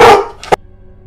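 Dogs barking in a horror story narration, a loud burst of overlapping barks up front followed by a single sharp bark, then quiet.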